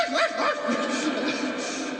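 A comedian's voice imitates a startled dog during a stand-up routine, giving a short burst of yelping, barking sounds up close that lasts about two seconds.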